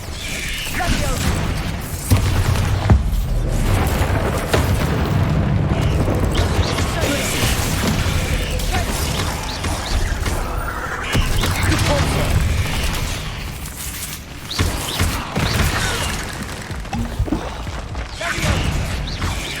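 Explosive Bombarda spell blasts in Hogwarts Legacy combat on PS5: repeated loud booms and crashes within a dense, continuous wash of battle effects and music, with no gap across the stretch.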